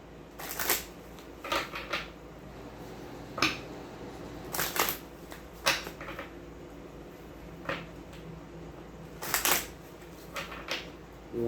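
Tarot cards are shuffled by hand in a quiet room, soft papery riffles and slaps in uneven bursts with pauses between, close and fairly faint, no talking.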